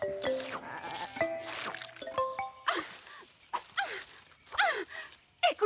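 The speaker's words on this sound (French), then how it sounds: "Maintenant, Max peut compter les moutons." Several bleats from sheep in quick succession, some wavering and some sharp, mixed with soft plucked notes and drips, fairly quiet overall.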